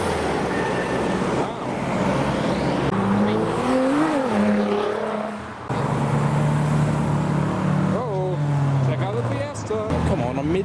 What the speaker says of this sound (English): Oh wow, the MX-5s have all arrived.